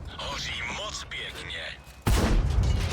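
A tank's main gun booms in a tank video game, one heavy shot breaking in abruptly near the end after a stretch of quieter engine and battle noise.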